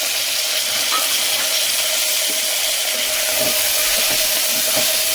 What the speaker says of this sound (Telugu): దీని వెంబడే ఉల్లిగడ్డ వేసినప్పుడే మనం సగం కొత్తిమీర, కరివేపాకు, పుదీనా వేయాలి ఫ్రెండ్స్